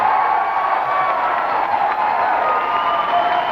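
Studio audience at a late-night talk show, The Chevy Chase Show, cheering and applauding: a steady, dense wash of crowd noise holding at an even level throughout, with no distinct voices standing out.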